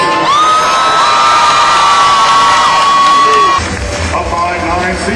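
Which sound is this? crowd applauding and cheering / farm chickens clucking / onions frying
crowd applauding and cheering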